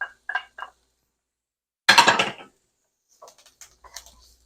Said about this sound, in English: Just stir it up a little bit.